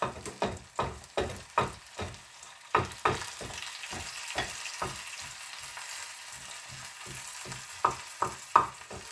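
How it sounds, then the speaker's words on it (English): Cooked fish is chopped up with a utensil in a hot frying pan after the heat is turned off, producing a steady run of close, rhythmic tapping and scraping strikes over a faint sizzle. "I'm going to turn off the heat and chop up my fish"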